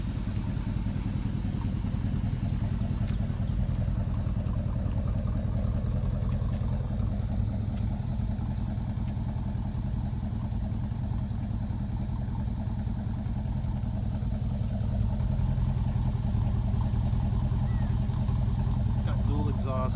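A 1972 Ford F250 pickup with an FE 360 V8 and dual exhaust idles steadily and continuously, a low rumbling drone heard up close throughout.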